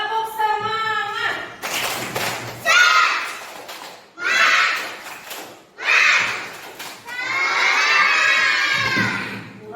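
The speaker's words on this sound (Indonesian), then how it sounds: "Tepuk semangat." A class of schoolchildren in a classroom performs a clapping cheer, bursts of rhythmic claps and loud shouted chanting in several waves, with a teacher's voice leading between them.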